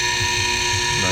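A chainsaw chain for a Stihl HT131 pole pruner is sharpened with a powered grinder, giving a steady, high, tonal whine that holds loud and close throughout.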